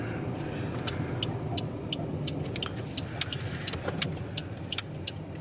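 A car rolls slowly into a station car park at a heritage steam railway, its engine a low steady rumble from inside the cabin with faint ticks and clicks over it.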